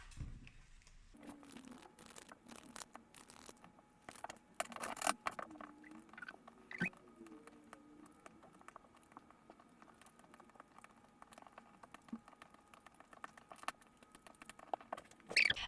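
Someone shuffles and spreads tarot cards close by, making soft irregular papery slides, crinkles and light taps, with a few louder slaps and a faint tone in the background.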